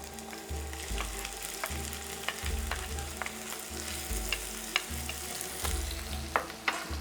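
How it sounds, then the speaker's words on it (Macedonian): Vegetables frying in a pan for a traditional tava dish, giving a steady close sizzle with a rhythmic low throbbing and scattered sharp ticks and pops throughout. "Ставам да се пропржи."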